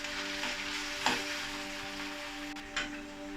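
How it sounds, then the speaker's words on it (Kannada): Onions frying with ginger garlic paste in a pan for rajma masala hiss in a steady, close sizzle, broken by two or three brief scraping stirs, with a constant hum underneath and no speech. "ಇವಾಗ ಶುಂಠಿ ಬೆಳ್ಳುಳ್ಳಿ ಪೇಸ್ಟ್ ಹಾಕ್ತಾಯಿದ್ದೀನಿ."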